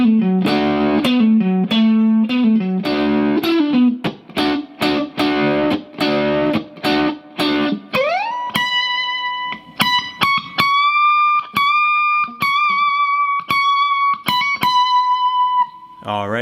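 An electric guitar plays the second solo of a song, starting with quick picked phrases and then moving into long sustained bends with effects, close and clear, with no talking over it.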